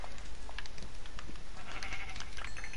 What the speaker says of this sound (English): I've just seen three sheep.